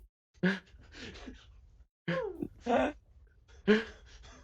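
A player in a tabletop horror game, wearing a gas mask, imitates a dog's bark with a muffled voice. There are three short, breathy vocal bursts separated by pauses.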